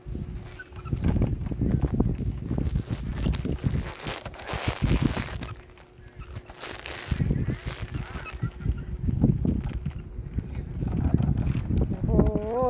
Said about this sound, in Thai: ลมแรงนะคะตอนนี้นะคะ